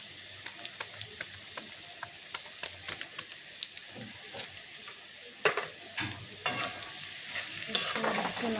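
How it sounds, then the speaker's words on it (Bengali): Masala soybean curry gets stirred in a frying pan, with a regular series of light spoon scrapes and taps over a soft sizzle, followed by louder clattering strokes toward the end. "নাড়াচাড়া করে নিতে হবে"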